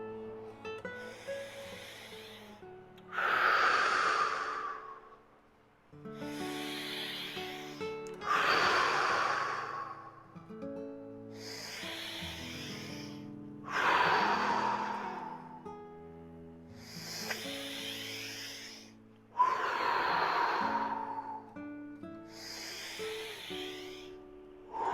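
Slow, deliberate deep breaths during a breathing exercise, six or so long, noisy inhale-exhale cycles close to the microphone with short pauses between them, no talking.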